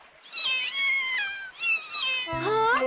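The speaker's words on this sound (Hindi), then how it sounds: "हाँ, ये बिल्ली के बच्चे भी।" Several kittens meow in high, drawn-out cries, one after another and close by, with a lower voice joining near the end.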